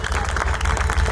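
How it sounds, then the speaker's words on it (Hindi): Audience applause for teachers at a Teachers Day honours event in Gangapur: a brief, dense burst of clapping from a crowd, steady and fairly loud throughout. "प्लीज एक बार जोरदार वाली तालियां हो जाए।"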